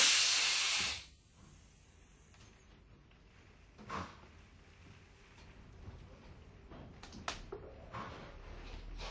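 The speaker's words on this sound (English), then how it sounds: "Release the compressed air." A loud hiss of compressed air bursts from a valve actuator on an Alfa Laval unit, then cuts off after about a second, leaving quiet workshop clicks and handling noises.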